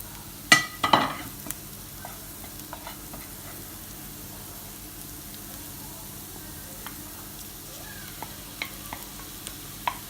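Green chili and mashed sweet potato stirred together in a pan, with a couple of sharp scraping clatters early on, then a low, steady background with scattered faint clicks of the spoon.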